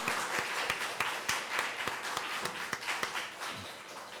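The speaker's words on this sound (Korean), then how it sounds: "다시 한번 박수로 격려하도록 하겠습니다." Church congregation applauding during a Sunday outreach service, a steady wash of many hands clapping with sharp individual claps standing out, sustained throughout and slowly thinning toward the end.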